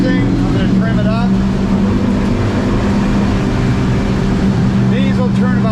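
A boat's outboard motor drones loud and steady while cruising on the water during a test run, a continuous engine hum with rushing water and wind, and a voice briefly audible over the noise.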